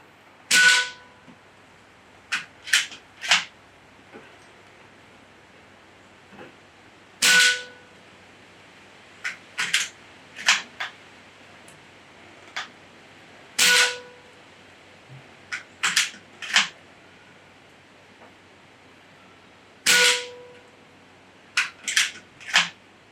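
An AEA Challenger Bullpup PCP air rifle fires .25 caliber pellets at a 30-yard backyard target, each sharp, loud crack followed by brief clicks of cocking, spaced several seconds apart in a slow series of shots.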